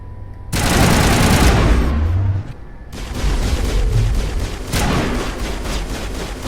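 Loud automatic gunfire in Mass Effect, a long sustained burst followed by a brief lull and then more heavy firing with booming impacts, close and dense throughout.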